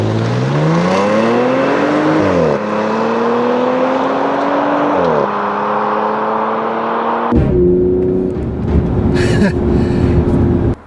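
A car accelerates hard in a 0-60 mph run at altitude, shifted manually with paddle shifters, its engine note climbing loudly through several gears with clear drops at each upshift, close and continuous with no talking.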